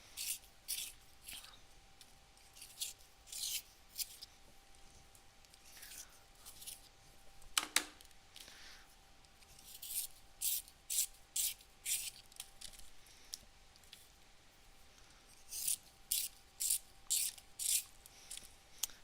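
Giant art crayons being turned in the small pencil sharpener that comes with the set, giving bursts of dry, rhythmic scraping and grinding that come in several separate runs with pauses between them, close up and fairly quiet.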